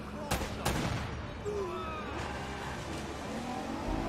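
Gunfire in a video game shootout in Uncharted: Drake's Fortune, with a couple of sharp shots early on over a steady bed of rumbling action noise and voices.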